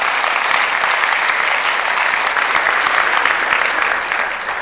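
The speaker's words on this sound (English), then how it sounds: "So would you applaud again and show that that story was funny?" A literary event audience breaks into loud, dense applause, a steady wash of clapping hands that continues throughout and eases slightly near the end.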